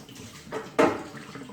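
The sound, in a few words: water draining out of a fire extinguisher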